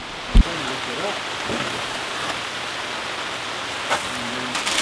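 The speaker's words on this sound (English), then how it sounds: "Rain." Steady rain hisses on surfaces, with a sharp knock near the start and faint distant voices underneath.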